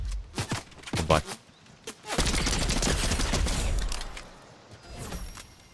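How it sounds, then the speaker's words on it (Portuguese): Rapid gunfire in a video game, a few sharp shots followed by a dense, sustained burst of fast fire that then tails off, moderately quiet. "Um tiro muito rápido no ar."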